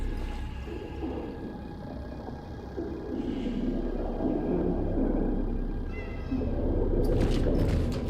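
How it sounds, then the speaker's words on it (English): A cat meows a few times in the video game Cronos: The New Dawn, over a steady, low ambient hum, with a brighter burst of sound near the end. "did I just hear a cat?"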